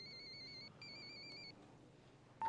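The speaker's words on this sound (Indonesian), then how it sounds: "Handphone-mu muni." A mobile phone rings indoors with a repeating electronic ringtone in two short bursts, faint and somewhat distant against a low background hum, with a brief sharp noise at the very end.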